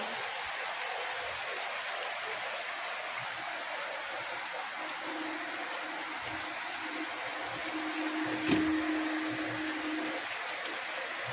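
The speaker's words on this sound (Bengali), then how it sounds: "বাইরে বৃষ্টি দেখো কেমন হচ্ছে" Rain falls outside as a faint, even hiss that continues throughout, with a brief low hum rising toward the end.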